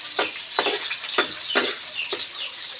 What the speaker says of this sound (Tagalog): Naggigisa na po si Makoy ng may bawang na.